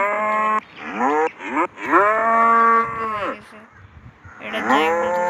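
Cattle mooing in the Deer Simulator video game, several long, loud, close moos one after another with a short pause before the last.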